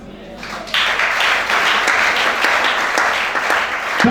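Church congregation applauding during a Sunday service, clapping swelling in abruptly and continuing as a steady, lively wash of many hands, with voices mixed in.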